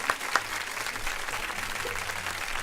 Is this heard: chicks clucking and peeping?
no